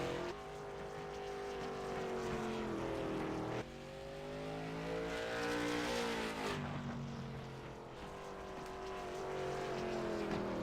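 The number 94 race car driven by Troy Radford on a qualifying lap, its engine droning loudly and steadily with rising and falling pitch as it accelerates and lifts through corners, heard alone.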